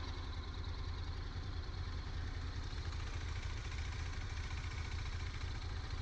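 A KTM 390 Adventure motorcycle engine runs in a steady, even drone, fairly faint and unchanging throughout, with no voices.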